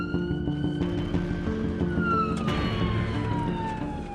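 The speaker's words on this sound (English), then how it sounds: "while Richard follows the ambulance, ready to help should his condition deteriorate further." An ambulance siren wails loud and close in a long, steady tone that gradually sweeps downward, with traffic rumble underneath and no talking.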